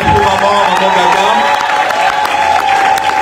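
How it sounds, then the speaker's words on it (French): Audience applause fills a church worship and thanksgiving service in welcome of Maman Gaga, a dense, steady wash of clapping with crowd noise and a sustained musical tone running beneath it. "Applaudis très fort pour Maman Gaga."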